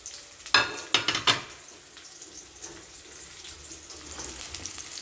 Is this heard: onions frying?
yes